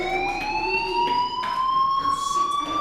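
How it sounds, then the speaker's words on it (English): A school fire alarm in Life is Strange sounds continuously, a steady high electronic tone with rising pitch and faint pulsing overtones, loud and unbroken, with no one talking. "do you hear that fire alarm?"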